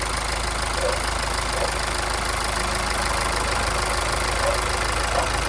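A car engine with a known mechanical problem and an overfilled crankcase after an oil change runs at a steady idle, a continuous mid-range rumble with a faint rattling knock throughout.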